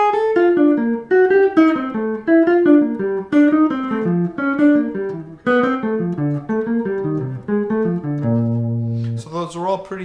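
Four-note chords approached from a half step below are played descending through a major scale on a keyboard instrument, a close, flowing sequence of chord clusters stepping downward and settling on a held low chord.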